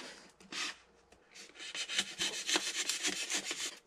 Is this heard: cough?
no